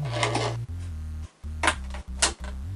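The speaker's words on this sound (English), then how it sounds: "I got the scissors. I'm gonna cut them right here and leave every part of it." Scissors snip through a plastic RC car body shell several times, close and crisp, with short sharp cutting clicks spaced irregularly over a low steady hum.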